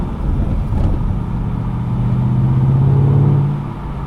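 A Ford Mustang GT500 engine drones loudly and steadily up close, its tone rising as it pulls, then easing off near the end, with no voices.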